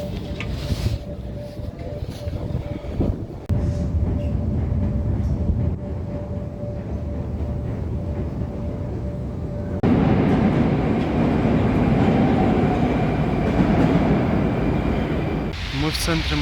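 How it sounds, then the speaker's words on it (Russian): Moscow metro subway train in motion, a continuous loud rumble and rattle of the carriage with a rising surge partway through, heard from inside the car with faint voices in the background. "А теперь предлагаю проехаться немного на московском метро."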